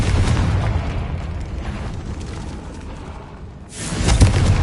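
Confringo fire spell blasting in the Hogwarts Legacy video game: a long rumbling explosive roar that trails off, then a second loud burst erupts near the end.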